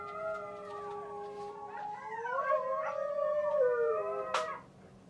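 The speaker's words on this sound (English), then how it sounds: "the chorus of Arctic Sled Dog was beginning" Several Arctic sled dogs howl together in a rising, overlapping chorus of long wavering tones, loud and close, with a brief sharp yelp near the end and no talk.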